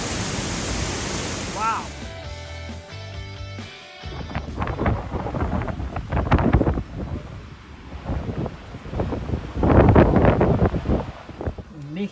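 A waterfall reached through a cavern in Iceland roars as a broad steady rush with wind buffeting the microphone, and a voice exclaims briefly partway through.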